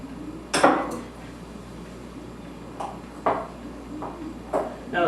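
A utensil chops butter in a pan of pasta with a handful of sharp, separate knocks and clinks against the pan, close up, with quiet gaps between strikes and no talking.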